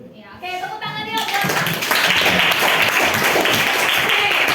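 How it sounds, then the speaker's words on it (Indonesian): Students in a classroom burst into applause after a group presentation, the clapping starting after a brief spoken moment and swelling into loud, dense, sustained clapping close by. "tepuk tangan ya"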